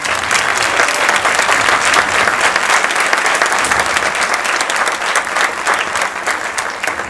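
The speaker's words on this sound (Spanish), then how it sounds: "aplausos para Jaime Marrero." A live audience at a laugh-or-lose comedy contest in a cultural center applauds loudly and continuously, a dense sustained clapping from start to finish.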